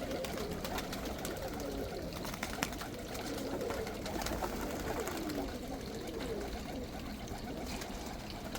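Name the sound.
young birds cooing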